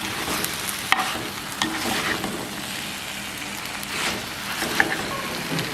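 Cuttlefish being stir-fried with chili in a pan, a busy crackling sizzle with repeated scraping strokes of a spatula and occasional sharp clacks against the pan, close up and without talking.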